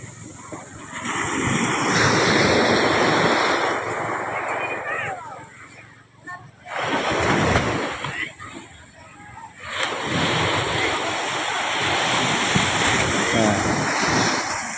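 Large ocean waves crash and surge against boats at sea, a loud, continuous roar with wind buffeting the microphone and a brief lull in the middle.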